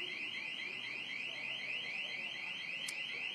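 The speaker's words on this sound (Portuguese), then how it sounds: "olha, o alarme está tocando ainda, Luana" An electronic alarm at a bank branch rings continuously after an explosion, a rapid warbling tone repeating steadily at high pitch, fairly loud and unbroken throughout.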